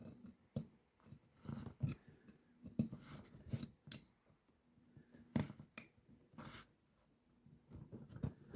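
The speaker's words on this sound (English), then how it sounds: "So I'll take a knife and then cut around it." A knife cuts around a homemade DIY phone case, giving a series of close, quiet scraping and snipping strokes in uneven bursts with short pauses between, and no talking.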